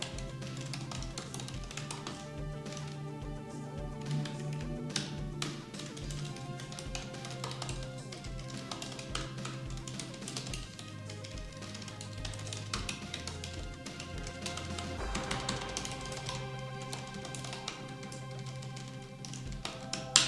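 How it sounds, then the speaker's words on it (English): Rapid, steady keystrokes clatter on a computer keyboard throughout, close and continuous with a dense irregular rhythm while code is entered on an IBM i (OS/400) system; no speech. "And start typing."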